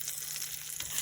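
Meat for Philly cheesesteak fries in melted butter in a hot pan, a brief, steady hiss of sizzling fat.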